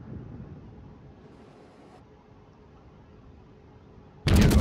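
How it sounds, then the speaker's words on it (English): A warship gun salvo from the cruiser Pensacola in the video game World of Warships: a quiet, windy lull breaks into a sudden, loud, booming blast of heavy naval guns near the end. "Good salvo. Look at the accuracy on those guns, though."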